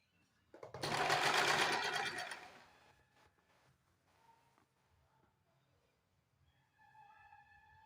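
A sewing machine stitches a blouse sleeve in one loud burst of rapid running for about two seconds, then falls to faint handling noises and a soft tonal hum near the end.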